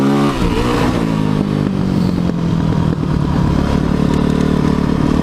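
Motorcycle engine revving hard and close, a continuous loud roar with rising and falling pitch and some clattering, no talk over it.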